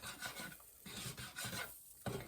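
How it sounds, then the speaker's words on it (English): Black pepper is ground with a hand pepper grinder, a quiet, close run of gritty rasping twists in a quick repeating rhythm, with no voices. "no less than 40 grinds of pepper, depending on how big your grinder is"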